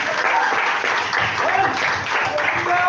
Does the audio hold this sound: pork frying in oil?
no